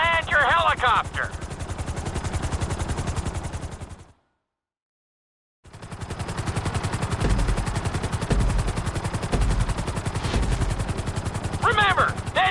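Helicopter flying in GTA 5 during a speed-focused flight lesson, a steady loud rotor chop with dense rhythmic thudding, briefly cutting to silence midway, with gunfire-like bursts layered in.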